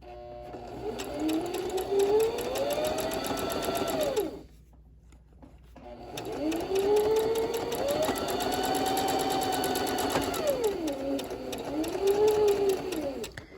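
A sewing machine stitching and back stitching along a seam of a quilted coat with piping, running in two long bursts of rapid, steady whirring with a brief pause between, close and fairly loud.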